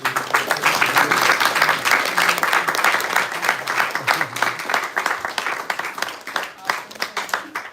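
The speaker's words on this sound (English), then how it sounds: "Let's have a big round of applause" An audience at a Hare Krishna devotional talk gives a big round of applause, loud and dense at first, then gradually thinning and tapering off with a few lingering claps, with some voices underneath.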